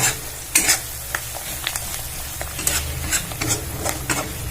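Chili powder fries in oil for a bachelor-style chicken curry as a spatula stirs it, a steady sizzle with scraping strokes and light clicks against the pan, close and moderately loud, no talking.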